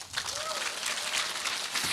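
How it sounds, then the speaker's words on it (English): A crowd at a Sydney business academy event claps in a steady, continuous wash of applause, fairly close and even throughout. "Let's give them another big round of applause."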